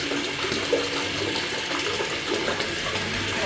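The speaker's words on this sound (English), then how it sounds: "this shower head is delivering exactly 9 litres per minute" A shower head sprays water steadily during a flow-rate test at 9 litres per minute, a continuous hissing rush that stays even throughout with no talking.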